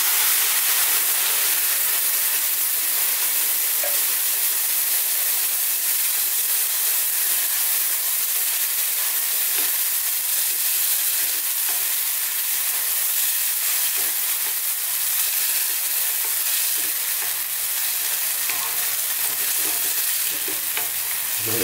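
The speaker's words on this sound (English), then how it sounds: "Now simply, I'm going to go in with some coconut milk." Steady, loud sizzle and frying hiss of a raw green banana (plantain) masala curry in a hot pan as coconut milk is poured in, continuous bubbling crackle with faint stirring, no talking.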